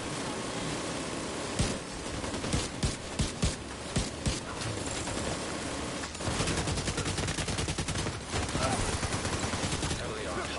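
Gunfire in the shooter game The Division 2: a string of separate sharp shots, then denser rapid automatic bursts, loud and close with little talk.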